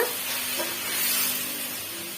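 Tomatoes being stirred into frying onions in a pan for a potato gravy, a steady soft sizzle with gentle scraping and stirring close by, no talking.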